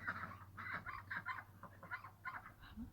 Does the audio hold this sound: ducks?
yes